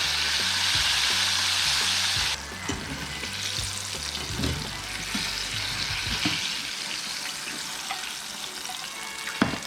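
Rockfish and sand bass fillets fry in a pan with a continuous close sizzle, louder for the first couple of seconds and then settling into a softer crackling hiss with a few light clinks.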